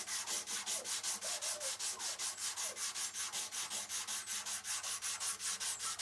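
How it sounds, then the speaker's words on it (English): A sanding block is rubbed back and forth over wood putty filling an old hardware hole in a wooden accent table, a steady rhythmic scratching of about four strokes per second, close and moderately quiet. "So I got my little sanding block. I'm just gonna go like that."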